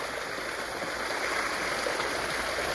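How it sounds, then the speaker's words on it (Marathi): Water pours steadily into a farm pond, filling it for irrigation on a farm field; a continuous broadband rushing and splashing, close and loud, holding even with no pauses throughout. "मित्रांनो तळ भरायला तळ्यात पाणी चालू केलं."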